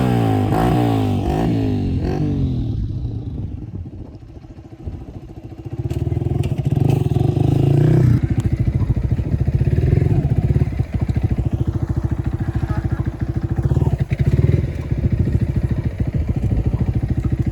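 A motorcycle rides through mountains, its engine revving up and down at first, then settling into a steady, loud, close drone with rattling that persists throughout.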